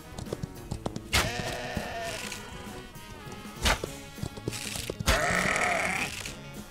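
Sheep bleating in a Wild West survival game, several distinct bleats spaced over a few seconds with soft clicks and rustles between, fairly close and clear with no talking.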